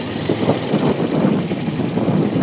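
A motorcycle engine runs steadily under light throttle during practice for a riding test, a close, continuous rumble with slight rises and dips and no talk over it.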